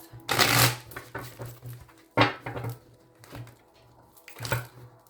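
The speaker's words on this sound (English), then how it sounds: "I'm going to shuffle again." Tarot cards are shuffled by hand in several quick riffling bursts separated by short pauses, close and crisp with soft handling sounds between.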